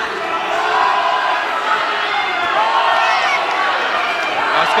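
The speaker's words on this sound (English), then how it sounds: "And the crowd are chanting Oscar." A boxing crowd at the Oscar Ledlin vs. Ben Capps bout in 2013 chants for Oscar, a dense, continuous roar of many voices that fills the venue without a break.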